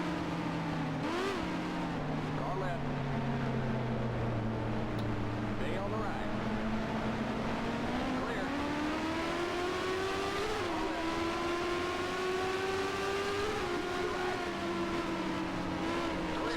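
Race car engines in the NR2003 racing game rev loudly and continuously, the pitch rising and falling with throttle through turns, joined by other cars nearby.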